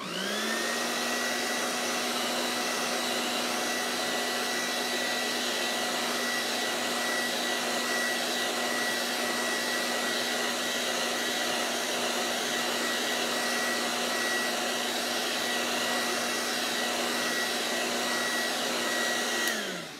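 A hair dryer blows on a wet chalk drawing, giving a steady, loud whirring hum with a constant pitch that runs unbroken for about twenty seconds before switching off.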